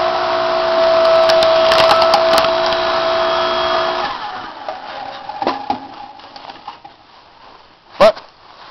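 A 5 ton electric log splitter drives through fibrous green black spruce, its loud motor whine running steadily before the wood gives way in a series of creaks and splintering cracks, ending with one sharp snap.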